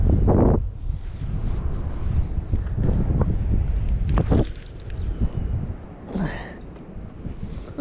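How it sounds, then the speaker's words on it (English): Heavy wind buffets the microphone in a steady rumbling roar, with gusts rising and falling and a few brief bumps and rustles. "it's windy out"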